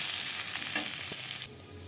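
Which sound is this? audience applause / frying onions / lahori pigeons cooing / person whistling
frying onions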